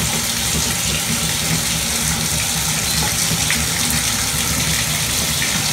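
Water gushes steadily from a tap into a utility sink, a loud, continuous broadband rush that fills the whole stretch without a break and with no talking over it.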